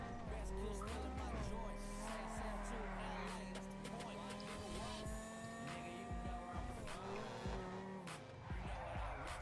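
A car driven flat out in GTA V, its engine roaring at high revs with gear shifts and tire squeals as it speeds along, in-game music underneath and someone talking over it.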